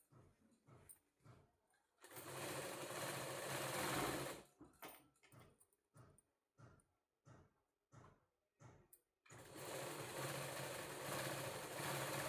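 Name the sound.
sewing machine stitching a blouse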